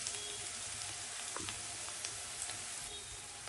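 Babla fish frying and being stirred in oil, a soft continuous sizzle with scattered small clicks and taps from stirring, close but fairly quiet throughout.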